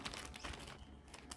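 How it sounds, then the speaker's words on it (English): A sabiki fishing rig is slipped into a plastic bag, giving a short run of crinkling and rustling plastic handled close by, with no voices. "I'll put it in the plastic bag as well, just in case it does unravel."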